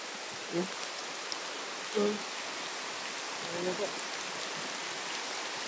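Steady rain falls in a constant, even wash of noise, with a few faint, brief voices or knocks surfacing now and then in the background.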